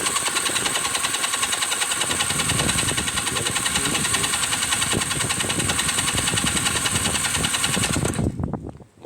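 A Honda engine cranks over on the starter at wide open throttle during a compression test, a steady fast chugging whir held close for about eight seconds before it stops abruptly.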